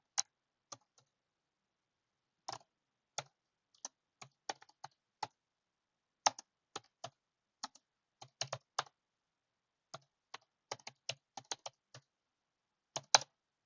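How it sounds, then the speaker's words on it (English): Loud typing on a computer keyboard in a quiet room, with sharp, close keystroke clicks arriving in irregular bursts and flurries separated by brief pauses. "Geez, I'm a loud typer."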